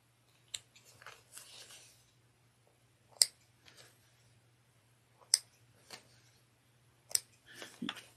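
Scissors snip cotton fabric while making a clutch wallet, a few sharp isolated cuts spaced several seconds apart over a steady low hum, with soft handling rustle between them.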